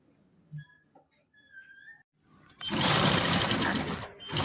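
A sewing machine stitching a placket on a garment starts after a few soft sounds and runs as a loud, continuous whirring burst to the end.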